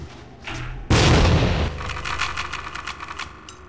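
A single loud gunshot with a heavy boom cracks out in the video game Tactical Ops Assault on Terror, after a brief quiet lead-in, followed by a rattling, decaying tail of lighter clatter.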